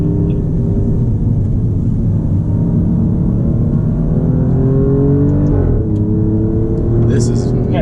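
A sports car on the Monticello track accelerates out of a tight double-apex left corner, its engine a steady, loud, close droning roar that shifts pitch briefly partway through, then carries on strongly.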